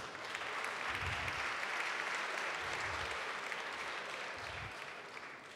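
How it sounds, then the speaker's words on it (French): Audience applause at an awards ceremony for tourism, a steady wash of clapping from a seated crowd heard at moderate distance, continuous and even for several seconds without speech. "Je ne sais vraiment pas ce que vous applaudissez."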